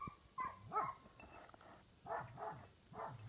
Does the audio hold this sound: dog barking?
yes